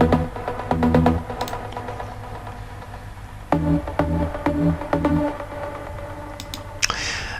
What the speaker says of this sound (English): detuned trancey sound with some delay and reverb.